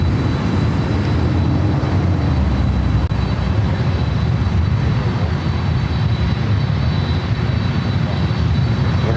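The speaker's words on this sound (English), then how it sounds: "767-400ER preparing for takeoff on the 24 left" Boeing 767-400ER jet preparing for takeoff on runway 24 left at LAX: a steady, loud engine roar with a thin high whine running throughout, constant and unbroken.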